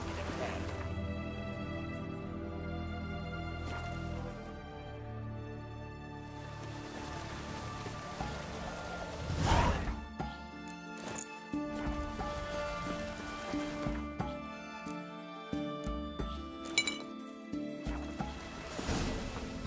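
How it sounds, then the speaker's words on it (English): Steady rain falls across the open world of The Witcher 3, a continuous wash of drops running beneath game music, with a few brief bumps and a voice speaking in places. "looks like rain."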